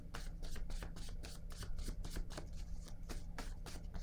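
Playing cards are drawn from a deck and handled in quick, faint papery flicks and slides, repeating in a loose rhythm close by, with no talking.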